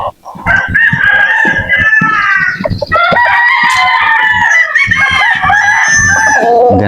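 Native chickens on a farm, with a rooster crowing loudly and repeatedly up close over continuous clucking and hen chatter from the flock.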